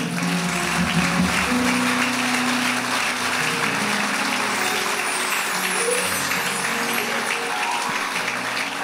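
A church congregation at a temple service claps together in sustained, dense applause that holds steady and fairly loud throughout, with a faint murmur of voices underneath.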